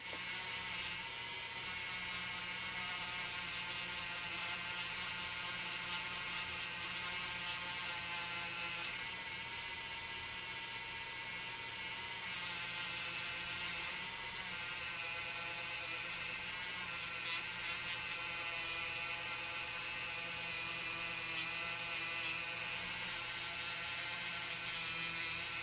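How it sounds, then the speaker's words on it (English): A small rotary tool spins a yellow cloth polishing wheel as it buffs a Redline Hot Wheels car, the Aqua Lola GT70. It gives a steady, high-pitched whir that stays close and continuous throughout, with faint mechanical rattling underneath. "I like to use these yellow cloth polishing wheels."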